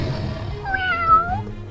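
A cat gives a single drawn-out, rising-then-falling meow, close and clear, in a children's storybook show, with a soft low hum underneath.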